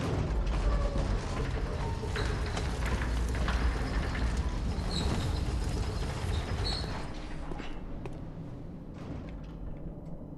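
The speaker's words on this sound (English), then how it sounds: "I remembered there was an elevator there." An elevator in Bloodborne moves with a continuous mechanical grind of creaking, ratcheting gears that runs steadily for several seconds, then eases slightly toward the end.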